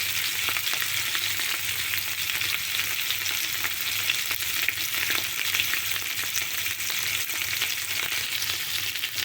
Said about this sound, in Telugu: చేపలు వేగిపోయింది కదండి